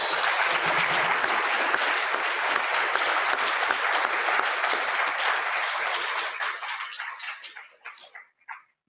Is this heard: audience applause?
yes